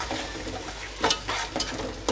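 Prawn biryani mixture being stirred while it fries in a pan: close scraping stirs with a few louder strokes over a soft sizzle, lasting about two seconds.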